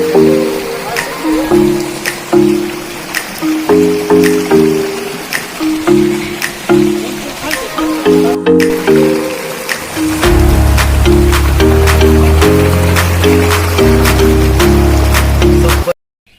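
Heavy rain pours while water runs across a flooded farm field beside a road, a steady broadband rush that continues throughout under rhythmic music.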